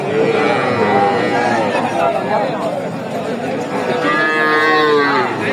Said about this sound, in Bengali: সার গরু।